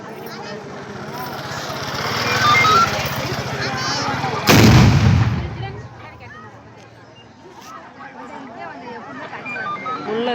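Fireworks bursting at a traditional village temple festival in Ramanathapuram: rumbling crackle builds, then a single loud close boom at mid-point fades into scattered pops, with people talking throughout.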